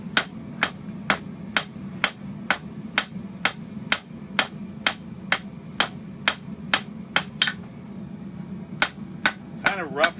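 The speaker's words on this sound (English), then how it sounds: "just use the hammer to create facets" A hammer strikes hot steel in a steady, rapid rhythm, about two blows per second, forging facets on a bottle opener, sharp ringing hits over a low background hum.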